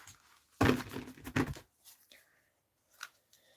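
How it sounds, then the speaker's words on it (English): Tarot cards being riffle-shuffled by hand, two crisp rapid fluttering bursts close up, followed by softer taps and rustles as the deck settles, with no talking. "Now they're shuffling fine."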